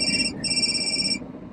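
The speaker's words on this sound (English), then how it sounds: "Incoming call. Press the pickup button to answer." An incoming-call ringtone plays through a car's speaker system as a loud repeating electronic tone pattern with a short break, ending abruptly after about a second over low cabin rumble.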